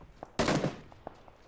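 A single sharp gunshot cracks out in PUBG, fairly faint and distant, followed by a few soft, scattered pops in the quiet.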